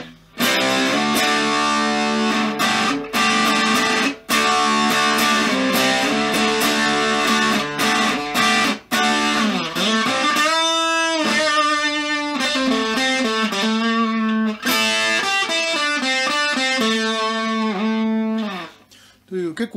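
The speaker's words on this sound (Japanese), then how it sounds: "こっちがチューブドライブの音が" Electric guitar played through the tube drive channel of a roughly thirty-year-old Maxon PUE5 floor multi-effects unit, giving a loud, heavily distorted tone with strummed chords and then sustained held notes, no talking.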